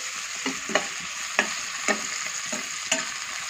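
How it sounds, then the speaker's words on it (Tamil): Kurma spices and a bay leaf sauté in a pan, a soft continuous sizzle broken by about six distinct scrapes of a spoon stirring, close and without speech. "நல்லா போட்டு எல்லாத்தையும் மிக்ஸ் பண்ணி நல்லா வதக்கணும்"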